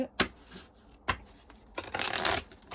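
Améthyste Love oracle cards are handled up close: short papery flicks and snaps, then a longer, dense riffling burst as the deck is shuffled and cut.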